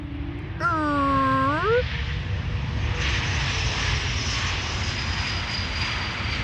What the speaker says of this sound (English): The A340-600. Likely the next departure from runway 24.